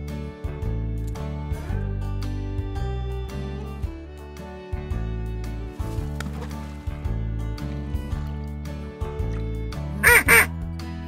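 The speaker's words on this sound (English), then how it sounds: "Duck." A duck quacks twice in quick succession near the end, loud and close, following a stretch of steady children's background music that continues underneath.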